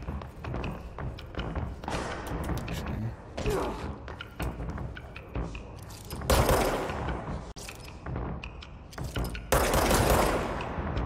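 Sniper fire and other gunshots in the action video game Control, a string of loud sharp cracks and booms in irregular bursts, with heavier blasts near the end and some game noise between them.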